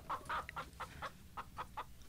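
Chickens cluck in a quick series of about ten short, separate notes, faint and at a moderate distance, with no talk over them.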